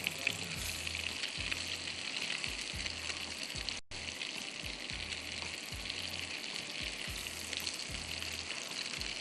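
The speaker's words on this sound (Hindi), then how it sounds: "बहुत तेज़ पे नहीं फ्राई कीजिए, कीमा कच्चा है।" Raw minced meat (keema) frying in a pan on moderate heat, a faint steady sizzle and crackle running throughout, with no talk.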